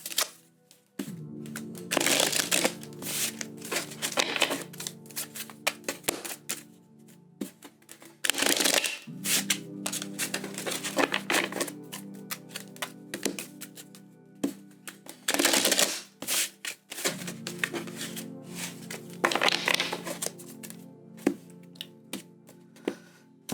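Tarot cards shuffled in three long riffling bursts, crisp and close, with softer tapping and handling sounds between them.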